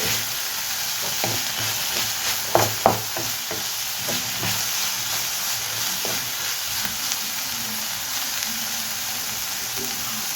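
Sliced onions fry in a pan for a tomato curry, a steady close sizzle with a few louder clatters of stirring near the start and scattered spatters after.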